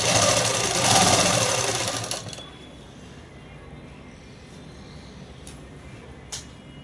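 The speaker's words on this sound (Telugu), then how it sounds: "ఇంకా స్ట్రైట్గా కుట్టు అనేది వేసేద్దాము." A sewing machine stitches a straight seam on a dress, a loud dense whirring run of about two seconds that stops abruptly, leaving quiet room tone with a couple of faint clicks.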